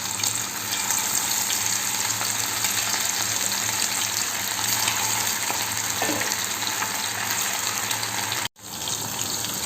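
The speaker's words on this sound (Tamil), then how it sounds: "இப்போ நெத்திலி பீசஸை நம்ம எண்ணெயில் போட்டு ஃப்ரை பண்ணி எடுக்க போகிறோம்." Loud, steady sizzling and bubbling of anchovies deep-frying in hot oil, continuous throughout with a brief dropout near the end.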